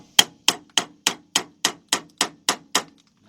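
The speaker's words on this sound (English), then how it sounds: "you want to take your hammer and you want to hit it on because you're gonna tap that socket on there" A hammer taps a socket onto a fuel pump part during a Chevy Tahoe, GMC Yukon or Cadillac Escalade fuel pump replacement: ten sharp, evenly spaced metallic hits in a steady rhythm, close and clear with no talking.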